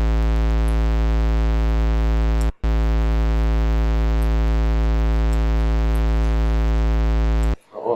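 Logic ES2 software synth playing a sustained buzzy bass tone with the filter resonance turned up, a steady harmonic-rich drone held for several seconds with one brief dropout and a cut near the end.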